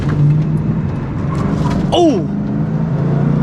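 A Ford Mustang Cobra driving on a twisty road, its engine droning steadily with a brief rising rev or tire squeal midway as a man exclaims over it.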